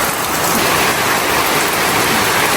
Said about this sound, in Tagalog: Ngayon po ay maulan.